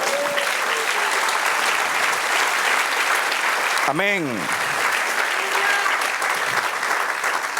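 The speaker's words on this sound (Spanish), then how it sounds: "Denle un aplauso, Señor." A church congregation bursts into loud, continuous applause during a Spanish-language sermon, the clapping steady throughout while a voice calls out briefly over it midway.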